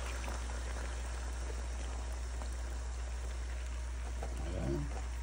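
Broth poured into a pan of simmering pork chops, a continuous soft sizzling, bubbling wash heard close up and fairly quiet, with no talking over it.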